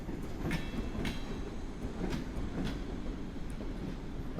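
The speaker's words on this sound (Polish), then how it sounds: "teraz dwa pociągi naraz odjeżdżają" Two trains leaving Warszawa Zachodnia station at once in snowy weather: a steady rumble of rolling stock with regular clickety-clack wheel beats over rail joints, moderately close, with no talk.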